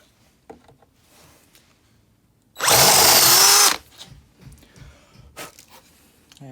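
A DeWalt power drill whirs loudly for about a second in one burst, drilling a hole, surrounded by quiet handling clicks and small knocks.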